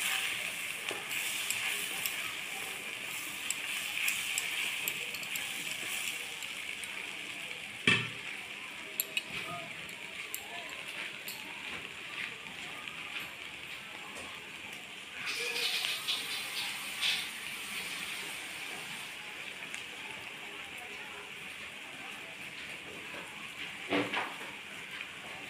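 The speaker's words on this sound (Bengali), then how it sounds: "মশলাটা আমি ভালোভাবে কষিয়ে নেব" Spice paste for a small barb fish curry sizzles steadily in a pan, a low continuous frying hiss with occasional clinks and scrapes of a spoon stirring it.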